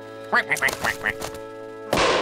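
Several quick, nasal quacks in a short run, close by, followed by a sudden burst of noise.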